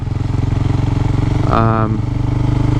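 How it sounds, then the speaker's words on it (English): A Husqvarna 401 motorcycle engine with its catalytic converter removed idles at low revs with a steady, throbbing pulse up close, briefly rising in pitch partway through. "If you're just pootling along low revs"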